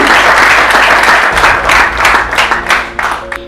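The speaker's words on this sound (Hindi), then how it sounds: "उसके लिए एक बार जोरदार तालियां अपने आप के" Loud applause from the audience at an Osmose Technology company presentation, dense clapping that thins toward the end into scattered individual claps.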